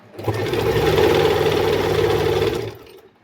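Sewing machine stitching suit shoulder seams, one steady whirring run of about two and a half seconds that starts abruptly, holds an even mechanical hum with fast stitch chatter, then winds down; close and loud.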